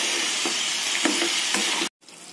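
Mutton pieces stirred with masala in a pan make a steady sizzling, frying hiss with soft periodic scraping strokes of a spoon, close and continuous before cutting off abruptly.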